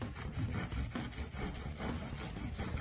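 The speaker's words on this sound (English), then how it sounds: "Let's proceed to finish up with cutting our corks as well as making the holes." Corks cut one by one for a beaded garland, about a quarter inch thick, making a soft, steady rasping, sawing sound that is quiet and close, with no talking.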